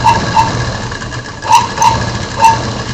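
A sewing machine stitches a long side seam of a quilt in short bursts, its motor whirring with brief higher clicks roughly every half second over a steady low hum, close and moderately loud with no talk.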